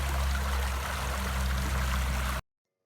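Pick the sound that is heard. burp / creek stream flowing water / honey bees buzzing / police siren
creek stream flowing water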